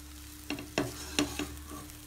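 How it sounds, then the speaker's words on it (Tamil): Tomato rice with salt being stirred in a pan, heard as a handful of separate soft scraping strokes over a quiet steady hum, with no one speaking. "சால்ட்டு உங்களுக்கு எவ்வளோ தேவையோ அதையும் இப்பயே போட்டு நல்லா மிக்ஸ் பண்ணி விட்டுருங்க."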